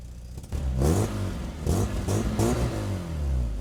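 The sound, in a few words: Volkswagen Golf 2 GTI engine revving through dual exhaust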